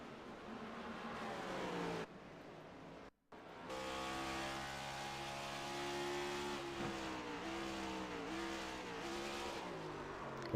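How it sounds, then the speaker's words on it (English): Race car in a racing video game over-revs on a downshift, its engine note climbing in steady rising harmonics before the wheels hop and the car spins out; loud and continuous with a brief cut near the start. "You heard the RPM skyrocket. They skyrocketed it, wheel hopped, and it just spins that car around."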